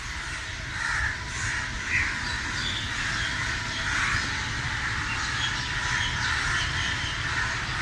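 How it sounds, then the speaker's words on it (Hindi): Crows and other birds caw and call at dusk near home, a steady, busy chorus of overlapping squawks and chirps with low rumbling background noise throughout. "ये परिंदों का भी यही हाल है कि ये खुशी से चहक रहे हैं शाम पड़ने पर"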